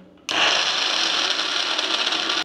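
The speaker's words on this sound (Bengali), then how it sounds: "এবার আমি বেটে নেব মিক্সিতে।" An electric mixer grinder blending chopped ingredients for a green-pea kochuri filling, starting abruptly and running at a steady high whir for about two seconds before cutting off, loud and close.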